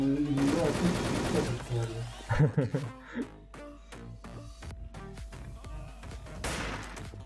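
Video game weapons fire in fast bursts and rattling single shots over a noisy mix of game audio, and players talk and laugh over the action.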